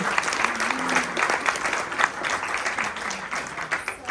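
An audience at a meet-and-greet event breaks into steady, dense applause, many hands clapping together nearby for several seconds without a break.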